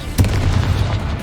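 A Bombarda explosion spell in Hogwarts Legacy, one sharp blast that opens with a hard pop and then rumbles on briefly at close range, heard alone.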